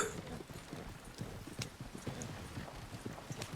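Galloping horse hooves pound out a quick, steady clip-clop rhythm in the online western game Red Dead Online. The hoofbeats are close and continuous, over low background ambience.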